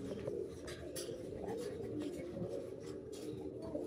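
Pigeons cooing inside a pigeon loft, a soft continuous murmur of low throaty calls from many birds at once, steady and fairly faint, with light rustling and occasional sharper sounds above it.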